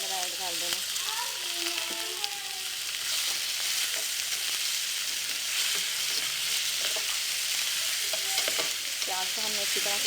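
Onion frying in a little oil in a pan for macaroni, a continuous bright sizzle with stirring clatter and scraping throughout, close up and with no speech.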